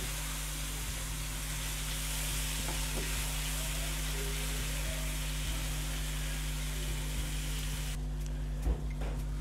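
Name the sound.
tomatoes frying and softening in a pan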